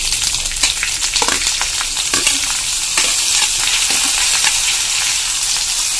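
Onions hit hot oil with cumin seeds in a pan for moong dal, producing a loud, continuous crackling sizzle with bursts of spatter close by.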